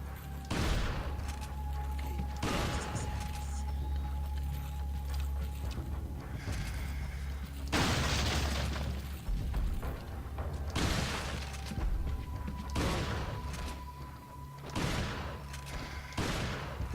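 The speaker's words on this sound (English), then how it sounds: "Let's use the abundance of riot gun ammo." Repeated riot gun blasts in Resident Evil 4's sewers, heavy booming shots arriving every couple of seconds over a constant low rumble, with impact crashes between them.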